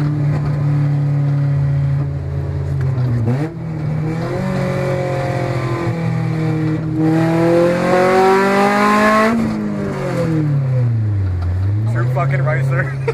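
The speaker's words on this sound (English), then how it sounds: "You can really hear V-Tech now." A 1999 Honda Civic VTEC engine with an open header revs loud and close, its pitch climbing and dropping in repeated sweeps with a raspy, high-revving scream.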